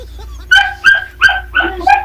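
A dog barks five times in quick succession, close and loud, with sharp yappy barks spaced evenly over a quiet background.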